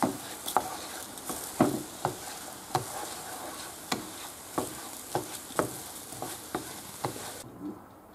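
Garlic and saffron stirred in a pan while cooking Valencian baked rice: a soft bed of sizzling with a steady series of about a dozen distinct scraping strokes, fairly quiet and close.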